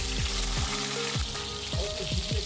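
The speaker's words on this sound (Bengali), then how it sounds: "ম্যারিনেট মাছগুলোকে একে একে ভালো করে দিয়ে হালকা করে একটু ভালো করে ব্রাউন করে ভেজে তুলে নেব" Marinated fish pieces fry in white oil in a wok with a loud continuous sizzle and crackle, punctuated by a few sharp spatters and utensil clinks, heard close with no talking.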